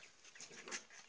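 Mother hen clucking near her frightened chick in a defensive stance, a short run of faint, close clucks and soft calls with a louder peak near the end.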